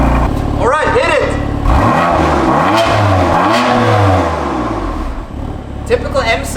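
A 2019 BMW M4 Competition revs hard with loud rising and falling engine sweeps and a metallic snarl, close to the microphone, while a voice talks over it.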